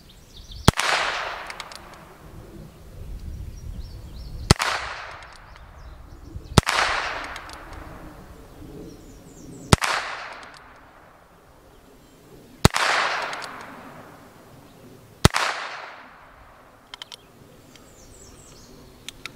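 Six sharp single shots from a Heritage Rough Rider Rancher .22 carbine crack out at irregular intervals of a few seconds, each loud report trailing off into a short, echoing decay.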